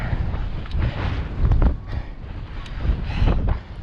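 Strong wind buffets the microphone on a dusty mountain slope while riding and hiking Cedar Mountain, a rough roaring rumble that swells in gusts around 1.5 and 3.3 seconds, with no talk.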